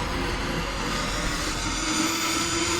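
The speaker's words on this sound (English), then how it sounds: "This is our turbo." Turbocharger whine from a car in the Need for Speed The Run racing game, a steady loud rushing roar with a sustained high tone throughout, alone with no voices.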